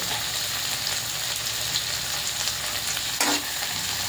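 Sautéed chayote, carrot and tomato sizzle steadily in a pan while being stirred. A low rumble runs underneath and a brief scrape sounds near the end.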